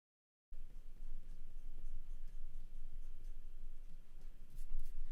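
A pencil sketches directional strokes for hair on paper, a soft close scratching with short irregular strokes repeating quietly after a moment of silence, with no talk.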